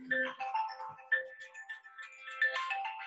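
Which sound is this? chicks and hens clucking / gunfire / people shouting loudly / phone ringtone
phone ringtone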